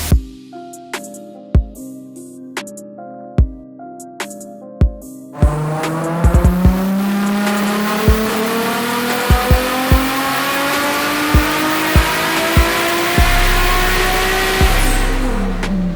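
A Nissan Silvia with a swapped 1JZ engine revs hard on a dyno during tuning, climbing through a long loud pull after a few short blips, with sharp clicks throughout.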